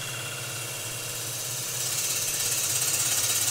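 A wood lathe spins steadily while a gouge cuts with its bevel rubbing, a continuous close hum and hiss that swells and grows more rhythmic partway through.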